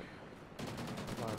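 A Remington shotgun fires in Call of Duty Ghosts with a sudden loud blast after a quiet moment, followed by a rapid train of repeated gunfire reports.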